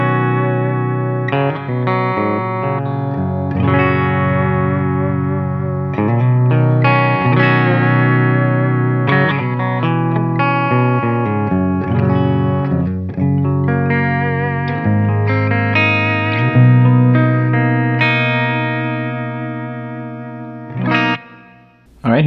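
Distorted electric guitar through a Mesa Mark IV amp, played with a Dunlop John Petrucci Jazz III pick, rings out in sustained chords and picked notes with chorus-like shimmer, loud and continuous.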